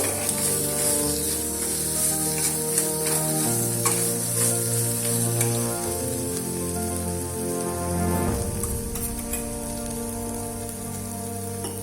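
Data shak greens cook in a pan as crushed fried lentil dumplings are stirred in, making a steady close sizzle with scraping stir strokes under a continuous musical backing and no talking.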